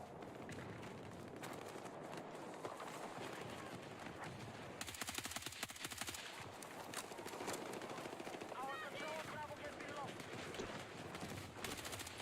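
Gunfire in the Battlefield 6 video game, with dense rapid bursts of shots and a run of sharp, crackling reports in the middle. Voices talk over the battle noise.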